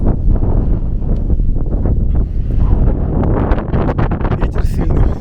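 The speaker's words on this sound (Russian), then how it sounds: "Ветер сильный сейчас." Strong wind buffets the microphone on an elevated commuter rail platform in Kyiv, a dense continuous roar with gusty rumble throughout, loud and close, with no clear speech.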